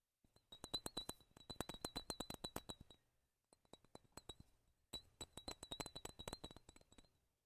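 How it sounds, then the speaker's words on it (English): A glass perfume bottle, Prada Luna Rossa Ocean, tapped close up in two quick runs of bright, ringing clinks separated by a brief pause of softer taps, crisp and alone against silence. "We're going to do some little glass sounds."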